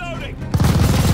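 Sustained machine gun fire in Call of Duty: Vanguard during a fight for a bridge and an MG tower, with a quieter opening that breaks into a loud, rapid, continuous burst of shots.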